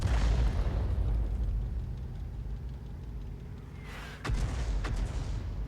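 An SU-8 self-propelled artillery gun in a video game fires a single round: one sharp, heavy boom that stands out from a low engine rumble.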